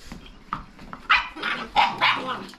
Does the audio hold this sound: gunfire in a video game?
no